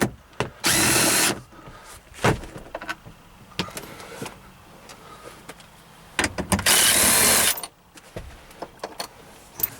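A power tool removing rear seat bolts in a Dodge minivan whirs in two short loud bursts, each about a second long, with clicks and handling clatter in between and a brief rattle near the start.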